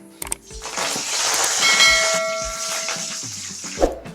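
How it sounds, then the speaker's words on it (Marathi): Curry leaves drop into hot oil for corn chivda and burst into a loud hissing sizzle that swells, holds and slowly fades, with a few clinks at the start and end. "कढीपत्त्याचे पानं आहे हे सुद्धा यामध्ये छान तळून घेऊया"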